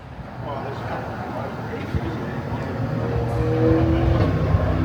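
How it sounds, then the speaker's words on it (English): Race cars circle a track in the distance, a steady engine drone that swells slightly as they pass, under people talking nearby. "there's actually some cars out on the track"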